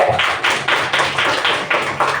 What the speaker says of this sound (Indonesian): Tepuk tangan dulu yang punya HP.